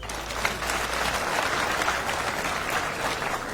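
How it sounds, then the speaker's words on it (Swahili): A university audience at Kenyatta University breaks into sustained applause during an address by Jimi Wanjigi, a dense, even wash of many hands clapping that lasts several seconds with no voices over it. "Mpigie makofi"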